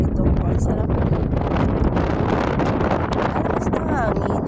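Strong, steady wind buffets the microphone with a loud, continuous roar and rumble throughout, outdoors while catching crabs.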